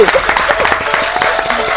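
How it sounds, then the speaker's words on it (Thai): A studio audience on a Thai television variety show claps to welcome a guest guitarist, with brief, busy applause and a voice talking over it. "ปรบมือต้อนรับพี่ชายครับ"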